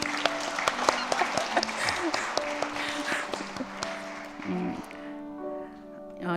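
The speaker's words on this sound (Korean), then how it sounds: "박수를 한번 부탁드립니다." Church congregation applauding during a Sunday afternoon service welcoming new members, steady clapping with music or tones sounding over it, then fading as a voice carries on.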